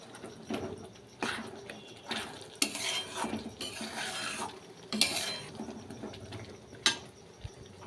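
A spoon stirs and scrapes chicken curry masala in a metal pan with repeated clattering strokes and a faint sizzle between them, close and fairly quiet.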